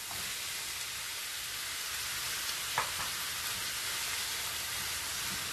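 Tomato goes into a frying pan of sautéed onion and garlic, giving a dense, even hiss of sizzling that runs unbroken, with one brief soft knock partway through and no talking.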